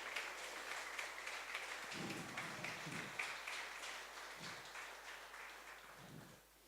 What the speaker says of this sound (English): So please, one huge applause for all of these people.